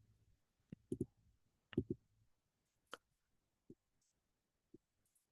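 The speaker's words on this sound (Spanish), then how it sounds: "Déjenme hacer clic acá" A mouse button clicks several times, quiet and close, as isolated sharp ticks spaced across a near-silent room.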